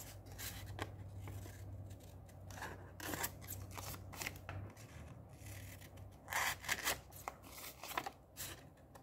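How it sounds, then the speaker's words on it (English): Scissors snipping the corners of a folded sheet of paper for a small handmade book, a quiet run of close, crisp cuts and paper rustling, with no speech. "And then all I do is snip the corners."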